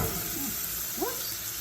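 Two sticks of butter sizzling in a hot pan, a steady close hiss and crackle that holds evenly throughout.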